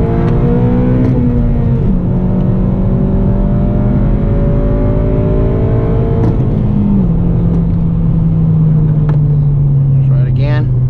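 A car engine revs at higher RPM during rev matching while heel-toe downshifting, with repeated rising and falling engine tones and a long sustained pitch that slowly drops. The revs are loud and close, and someone talks over them.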